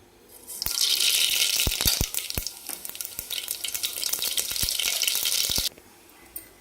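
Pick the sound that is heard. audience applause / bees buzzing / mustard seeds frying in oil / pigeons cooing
mustard seeds frying in oil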